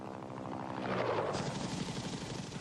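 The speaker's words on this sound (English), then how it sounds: "For the Army, the basic infantry transport helicopter was the UH-1 Huey." A UH-1 Huey military transport helicopter flies nearby, its loud, steady rotor chop and engine roar filling the whole stretch without any speech.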